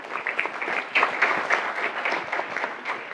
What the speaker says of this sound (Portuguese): Pedia a vossa salva de palmas para o Miguel Quintas.